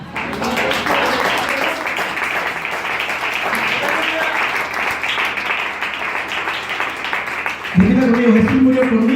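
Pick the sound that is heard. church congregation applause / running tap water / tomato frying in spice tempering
church congregation applause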